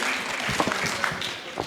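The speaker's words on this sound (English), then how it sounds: "Please make a big round of applause for my panelists and yourself." A summit panel audience on investing in Web3 applauds in a brief, dense burst of many hands clapping at moderate level.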